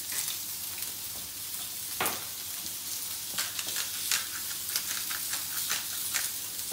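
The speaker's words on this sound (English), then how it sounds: "Fish is cooking" A fresh fish fillet fries in a hot pan, giving a steady bright sizzle with scattered pops and spits, close and fairly quiet, with no voices.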